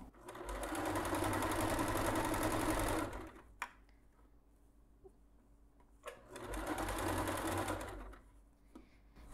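A sewing machine stitches a towel edged with pompoms, running in two fast rattling bursts separated by a pause with soft handling clicks, close and clear.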